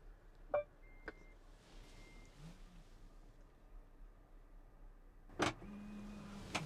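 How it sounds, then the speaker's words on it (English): The power rear hatch of a Honda Prologue closes, with faint clicks and a soft beep followed by a quiet electric motor whirr, another click and beep, then a steady low motor drone, all faint and without talk. "If I wanted to close the rear hatch,"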